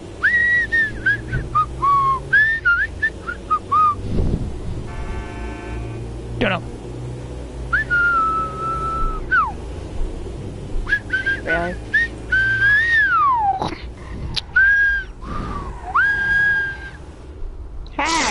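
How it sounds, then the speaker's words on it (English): Whistled tune from a character in GTA V, a series of short high pitched melodic notes and slides rising and falling, close and fairly loud, with people talking over and between the phrases and a low engine hum beneath. "Why are you whistling?"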